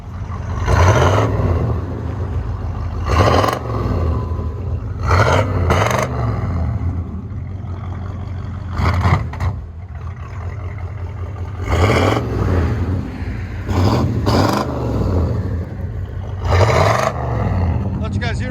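A 1984 Chevy Caprice Classic with a 350 V8 and straight-pipe true dual exhaust rumbles loudly at idle, broken by several sharp revving bursts, with someone talking over it.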